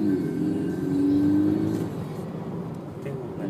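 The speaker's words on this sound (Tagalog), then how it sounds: "Tingnan mo, naririnig yung makina." A Toyota 86 engine revving while accelerating, heard from inside the car as a fairly quiet rising drone that swells then eases off, with faint road noise beneath.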